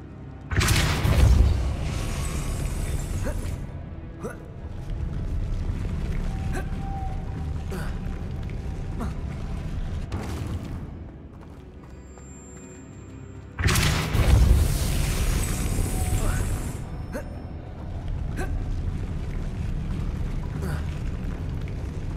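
Depulso force spell cast in the game Hogwarts Legacy, heard as two heavy booming blasts spaced apart, each a loud, rumbling burst that settles into a sustained roar before dropping away.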